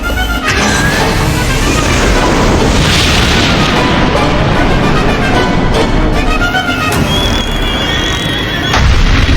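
A warship's main cannon fires in an anime space battle, a loud sustained roar of booming blasts and crashing impacts that fills the scene without a pause.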